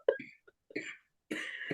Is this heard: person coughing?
yes